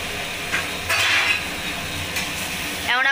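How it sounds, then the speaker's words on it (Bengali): Chicken and pre-fried potatoes being stirred together in a pan for a chicken chana dish, a continuous sizzle with scraping spoon strokes and a few metallic clinks against the pan, no talk. "এখন আমরা একটু ভালো করে মিক্স করে নিই।"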